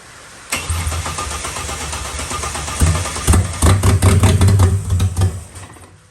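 A Ford Barra engine in a naturally aspirated-plus-turbo build cranks loudly on the key for a couple of seconds, then catches and fires into uneven, rising revs before cutting off, heard close up with no voices.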